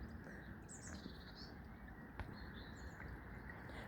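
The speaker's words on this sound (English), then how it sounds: "Can you hear the birds singing?" Small garden birds such as tits, finches, robins and blackbirds chirp and trill faintly in a back garden, brief scattered calls rising above a constant low outdoor hum.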